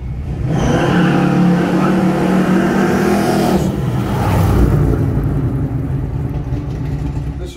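A 1964 Chevrolet Malibu SS Chevelle's 400 small-block V8 with twin 600 CFM carburetors runs close by, a loud steady rumble with a brief rev swell near the middle and another later, continuous throughout with no talk.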